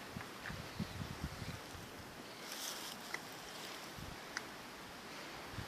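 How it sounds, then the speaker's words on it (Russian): Wind gusts steadily beside a taiga stream during grayling fishing, a continuous rushing noise blended with flowing water and a few faint knocks and clicks. "Ветер сегодня."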